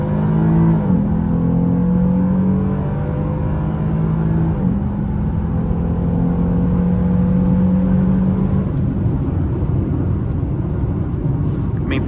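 A stock Lexus IS350 accelerating in a quick pull, engine tone rising steadily through gears with brief dips at shifts, loud and continuous inside the car.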